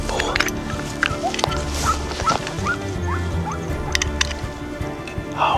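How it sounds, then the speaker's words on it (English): Hunting dog baying and yelping at a wild boar during a hunt in Turkey, repeated excited barks and whimpers at middle distance over rustling brush and faint background noise. "Dog sounds like it's on a fucking boar."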